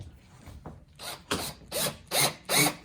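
A power tool drives screws to hang a large piece, with short buzzing bursts from the motor that grow louder and longer, about five pulses in quick succession, close by and with no voices.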